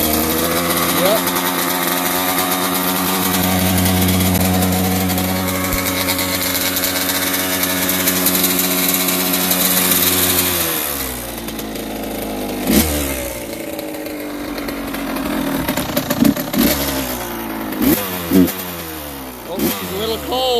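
A 2006 Kawasaki KX100 dirt bike engine roars loudly and steadily up close, then the revs rise and fall in sharp blips, with a voice talking over it.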